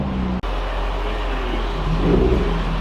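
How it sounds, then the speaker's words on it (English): Mercedes CL55 AMG with a faulty ABC suspension rocking and shaking in rodeo mode, heard as a steady low mechanical rumble and hum close by, with a brief dropout near the start and no talk. "now comes the fun part, where we get to put the car in rodeo mode and see it wobble wobble, shake it, shake it"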